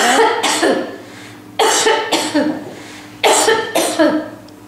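Three bursts of harsh, muffled coughing through an FFP2 face mask, each a quick double or triple cough, close to the microphone with short pauses between.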